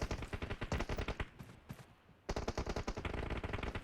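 Rapid, evenly spaced automatic fire from a Vector submachine gun in PUBG Mobile, two quick bursts separated by a short lull, fairly close and crisp.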